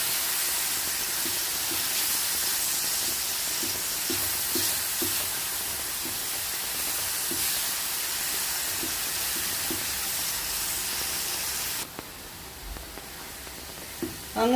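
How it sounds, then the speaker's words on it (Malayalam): Banana being mixed into hot ghee in a pan: a steady hissing sizzle with soft repeated stirring taps for several seconds, then the sound drops quieter before a sharp clatter at the end. "അങ്ങനെ നമ്മുടെ പഴവും നെയ്യും എല്ലാം ഇവിടെ നന്നായിട്ട് മിക്സായി വന്നിട്ടുണ്ട്"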